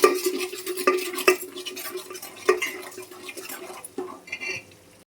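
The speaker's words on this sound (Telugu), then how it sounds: "ఆనియన్స్ యాడ్ చేసుకొని ఫ్రై చేసుకోవాలి." Onions frying in oil with curry leaves and spices in a pan, with steady spoon scrapes and metal clinks over a light sizzle and crackle, easing off toward the end.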